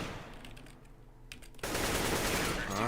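Video game gunfire in a 1v1 match: a few brief shots, then a sudden loud, continuous burst of rapid automatic fire that fills the second half, with players' voices faintly beneath.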